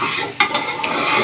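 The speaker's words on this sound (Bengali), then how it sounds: "এবার আমি সব জিনিসটাকে ভালো করে মিক্স করে নিলাম।" A spoon stirs and mixes ground spices with Kashmiri chilli for chicken curry in a cooking pan, giving a close, scraping swish with a few sharper clinks against the metal.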